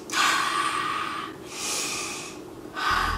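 A person takes three deep, forceful sniffs through the nose, breathing in the smell of gasoline while fueling up; each sniff is a loud, close, breathy rush with short pauses between.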